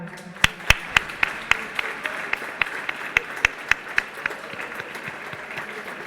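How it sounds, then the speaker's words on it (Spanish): Students and audience at Colegio Santa Catalina de Siena applaud after a school role-play debate on single-use plastics; loud, evenly spaced claps ring out in a quick rhythm over softer scattered clapping from the group. "Vamos a darnos un aplauso."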